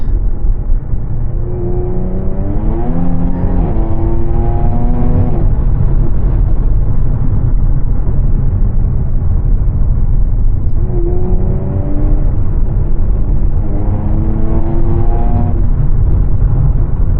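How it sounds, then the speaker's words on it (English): Jaguar F-Type sports car with a GOPedal throttle controller at speed, its engine rising and falling in pitch as the throttle is let off and reapplied twice, loud and close from inside the cabin. "I'm at speed and I let off the throttle and get on the throttle"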